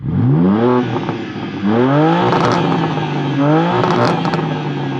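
A sports car exhaust revs repeatedly, rising and falling in loud roaring sweeps with crackles, heard up close from outside the car.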